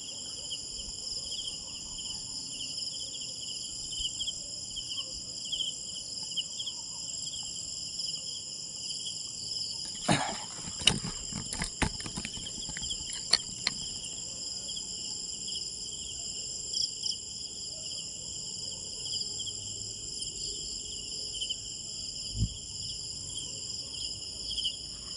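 Crickets and other insects chirp steadily at night in a cemetery, a dense layered high trill running the whole time, with a few brief clicks and knocks midway.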